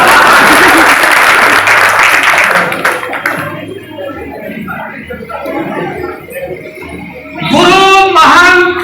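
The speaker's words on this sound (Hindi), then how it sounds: "अब तो ताली बजा दो कम से कम।" An audience breaks into loud, dense applause that fades after a few seconds, leaving a murmur of voices and scattered sounds before a short burst of claps and cheers returns.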